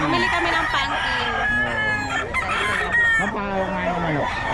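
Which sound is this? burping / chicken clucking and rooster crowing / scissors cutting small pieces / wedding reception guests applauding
chicken clucking and rooster crowing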